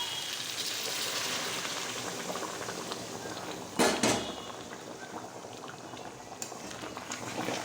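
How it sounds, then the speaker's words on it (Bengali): Hot water goes into a pot of mutton curry. A steady bubbling boil is broken by a brief loud splashing burst partway through, then the simmering settles back to a moderate, close bubbling. "গরম জল অ্যাড করব"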